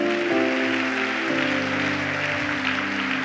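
A church congregation applauds during an evening family service, with a steady wash of clapping heard together with sustained music tones.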